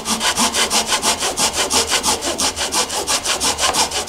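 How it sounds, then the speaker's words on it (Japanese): A Japanese hand saw fitted with a 7 mm depth guide cuts a kerf into wood for a DIY interior window, with steady rapid back-and-forth strokes making a loud rhythmic rasp up close. "7ミリのこのガイドがついたノコギリ、これで切り込みを入れていきます"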